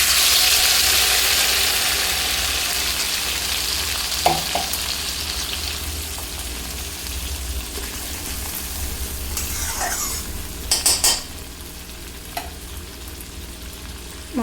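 A paste of ground cumin, mustard seed, poppy seed and green chili frying in a pan, a steady close sizzle with a few scraping stirs and clinks partway through, no talking.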